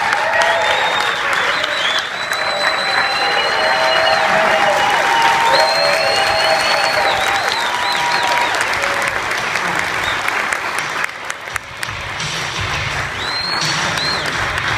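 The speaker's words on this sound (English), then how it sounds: "So give a big round of applause to your awesome friend, Ms. Meredith Christian." A large audience gives sustained, dense applause with scattered cheers and whistles. The sound stays loud and even throughout, with no talk over it.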